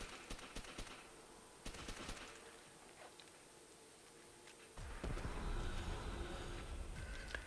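Tap-fired gunshots in World at War Zombies on the Nacht Der Untoten map, a few sharp, spaced single shots over faint game ambience, then a denser burst of noise near the end.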